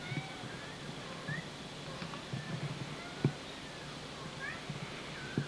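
A cat meows several times, faint and high, over a soft background hum with occasional small thumps nearby.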